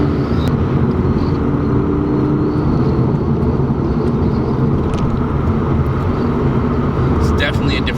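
Inside a Lotus Evora, the engine holds a steady, loud drone toward its red line, a constant cabin roar with no clear rise or fall in pitch.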